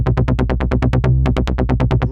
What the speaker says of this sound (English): Next up, I have this bass line,